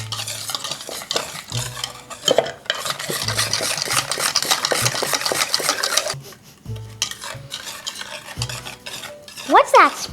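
Egg yolks and plenty of sugar are mixed in a bowl for a French chocolate and vanilla pudding, with a utensil scraping and clinking steadily and up close, a few brief pauses between strokes and no talk.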